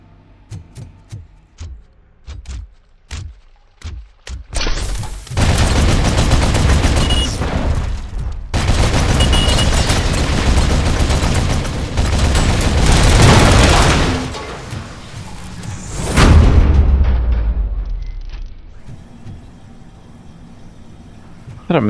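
Turret gunfire in the RoboCop video game roars as loud, dense, sustained bursts after a few scattered shots, then drops back to quieter sporadic sounds.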